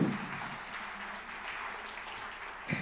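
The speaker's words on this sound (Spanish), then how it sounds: "Cuando yo me suba, el aplauso grande, ¿vale?" An audience at a talk on digital customer decision-making applauds as the speaker takes the stage. Sustained moderate clapping fills the room, fairly even throughout, with a brief louder swell near the end.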